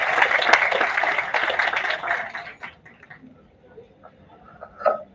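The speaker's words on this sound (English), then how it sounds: "Let's welcome Ms. Hongmei Hei with a huge round of applause" A conference audience applauds loudly for a few seconds to welcome a speaker, the clapping thinning out and fading to scattered claps and quiet room noise.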